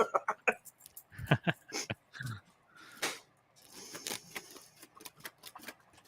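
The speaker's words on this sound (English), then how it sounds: "Pardon my typing away here." Someone types on a computer keyboard, producing irregular bursts of close, crisp clicks and clacks with short pauses between flurries.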